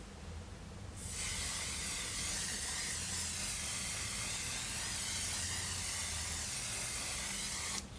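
A long continuous aerosol spray of makeup setting spray onto a face hisses close by for about seven seconds, starting and stopping abruptly, with no talking.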